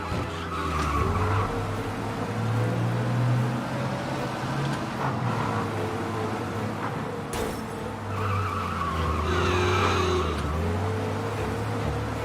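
Car driving fast during a police chase in Mafia Definitive Edition: a loud sustained engine drone with shifting pitch and occasional tire squeals and skids, continuous for the whole stretch.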